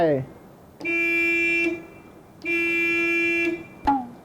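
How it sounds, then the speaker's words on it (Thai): A refrigerated truck's electronic safety alarm beeps in two long, steady bursts, each over a second, separated by a pause, with a short tone and brief voice fragments at the edges. "อันนี้คือเสียงอะลาม"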